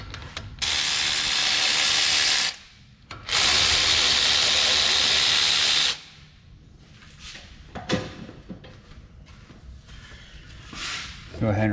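A ratchet or power tool removing the two 14 mm caliper bolts on the front brakes of a 2007 Honda Odyssey, two loud sustained bursts, then quieter clicks and clanks of loosened hardware.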